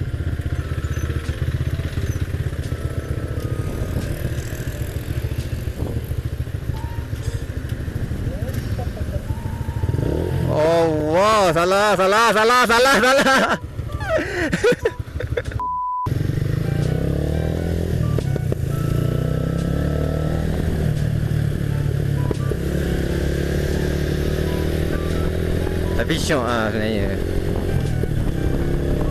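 A motorcycle engine drones steadily under a rider's voice, with a burst of revving and rising engine pitch midway, wind and road noise throughout, and talking heard over the ride.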